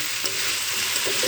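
Sliced potatoes and onion sizzle steadily in a pan while a spatula scrapes and stirs them, a close, continuous frying hiss with soft knocks.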